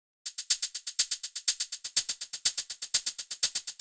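Shaker with an erosion effect thickening its body in an Afro house beat, playing a steady, fast run of sharp bright hits with a fuller low end, close and alone.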